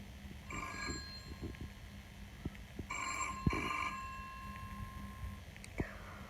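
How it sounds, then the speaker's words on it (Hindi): A telephone rings in short repeated bursts over a hushed, low background hum, with a few faint clicks between rings. "अचानक फ़ोन की घंटी बजी।"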